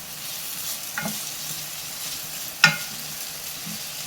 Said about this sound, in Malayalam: നല്ലതുപോലെ ഇളക്കി മിക്സ് ചെയ്യാം.